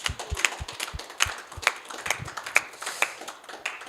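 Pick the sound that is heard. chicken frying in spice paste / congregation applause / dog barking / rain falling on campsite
congregation applause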